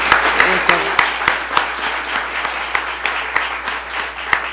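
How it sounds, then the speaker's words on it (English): Applause from an audience at a New York state government announcement, a steady wash of clapping with sharp individual claps standing out, fairly close, with a voice briefly audible underneath. "Let's give a round of applause."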